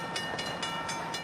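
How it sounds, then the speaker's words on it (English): An oncoming train rolls down the track toward a crossing where cars are stuck, a steady close rumble broken by rhythmic clacking bursts about four times a second, with no voices. "You can hear the oncoming train chugging down the track."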